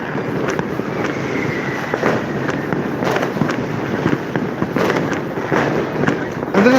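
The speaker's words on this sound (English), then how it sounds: "And this is how we celebrate New Year's here. It's basically, the thought is that if you have fireworks, you're scaring off evil spirits" Rapid New Year's fireworks and firecrackers going off all around, a continuous barrage of loud bangs and crackles with sharp peaks, voices faintly mixed into the din.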